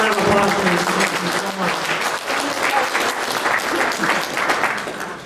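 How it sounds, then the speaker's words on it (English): Audience at a fly-in banquet gives a volunteer a round of applause, dense and loud clapping filling the room steadily for several seconds with some voices mixed in. "Give her a round of applause, please."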